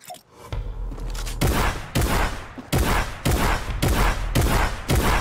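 Loud, close gunfire in the video game Fortnite, with about six heavy booming shots at a steady rhythm, each ringing out before the next.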